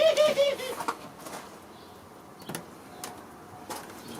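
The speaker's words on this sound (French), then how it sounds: "Et là, les pigeons" Pigeons in an aviary at a breeding loft: a low, rounded coo opens the clip, followed by faint bird rustles and a few soft wing flutters against a quiet room background.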